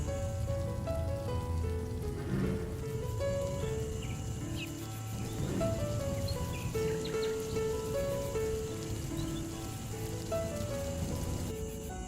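Rain falls in a steady, even patter that runs throughout, mixed under soft melodic music.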